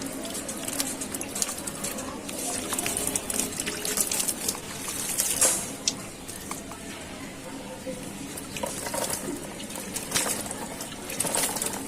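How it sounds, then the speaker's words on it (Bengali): Water splashes and trickles steadily onto garden plants, including spinach vines and aloe vera, with soft intermittent spattering, faint birdsong and some indistinct talk in the background. "গাছগুলাতে পানি দিয়ে নেই।"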